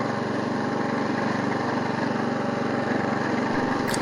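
Troy-Bilt 33-inch walk-behind mower running steadily through an overgrown yard, a continuous loud engine drone with a low rumble and no pauses throughout.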